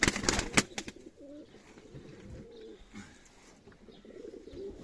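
Tumbler pigeons coo inside a coop, with a few soft, rolling coos over low chatter and scattered clatter, plus a brief louder burst of knocks at the start.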